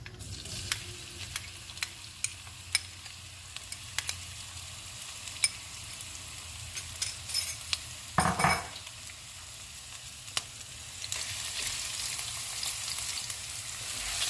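Ginger and garlic paste frying in oil for a fish curry, a quiet steady sizzle with sparse utensil ticks and one brief stir-scrape clatter midway, growing slightly louder toward the end.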